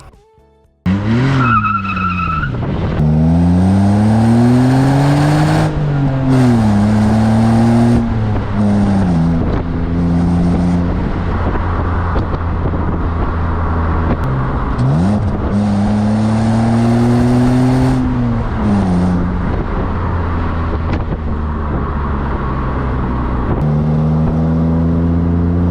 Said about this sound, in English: it does have a pretty nice inline 6 sound the typical BMW sound